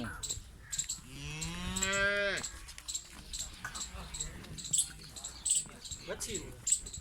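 A Friesian cross cow lets out one long, loud, rising moo close by, followed by farmyard clatter and background voices talking.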